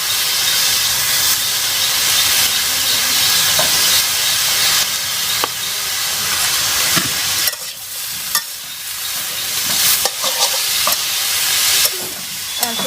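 Leafy greens cooking uncovered in a pan with salt and turmeric as the liquid reduces, giving a loud, continuous sizzle and hiss with occasional stirring scrapes, no voices.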